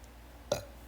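A single short, throaty burp from a woman, close and fairly loud, breaking a quiet kitchen background during spicy chicken cooking.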